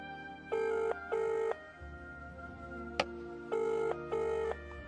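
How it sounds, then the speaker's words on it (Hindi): A telephone bell rings in two double bursts, separated by a brief pause with a sharp click in between, fairly close and clear with no talking. "फिर वो शिवानी को कॉल करती है।"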